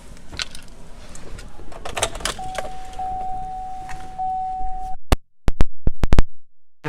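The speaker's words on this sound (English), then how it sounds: "power moonroof" Power moonroof of a 2017 Chevrolet Suburban operating, a steady electric motor whine running for a few seconds inside the cabin, followed by a quick series of sharp clicks and thumps as it stops.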